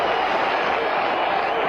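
Crowd of about 15,000 at a football stadium during a match, a steady, broad roar of massed voices at a distance that never lets up, with no clear individual voices.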